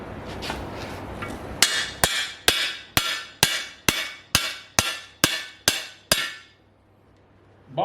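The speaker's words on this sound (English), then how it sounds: "that's how you remove the cam bearings on an LS" Eleven sharp, evenly spaced metal hammer blows ring out close by as cam bearings are driven out of an LS engine block with a tapered tool, followed by a short pause.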